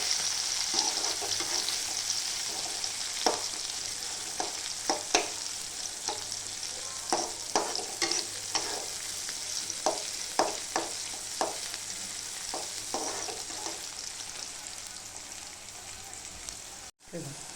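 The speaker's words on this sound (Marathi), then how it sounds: "कांदा पण ते चांगला पाहिजे फ्राय करून घ्यायचा." Chopped onion frying in a pan, a steady close hiss of sizzling oil broken by frequent clicks and scrapes of stirring.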